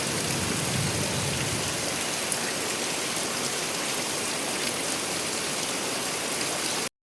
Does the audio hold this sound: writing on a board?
no